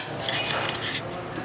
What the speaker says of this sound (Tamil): ஒரு வாணலி அடுப்பில் வைக்கிறேன், கேஸ் ஆன் பண்ணிக்கிறேன்.